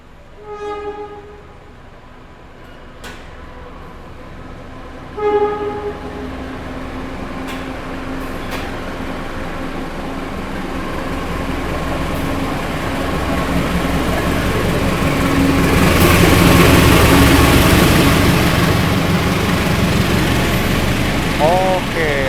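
Kahuripan train pulling into a station platform, a broad rumble and rail noise building steadily louder toward the end, with horn-like tones and people talking over it.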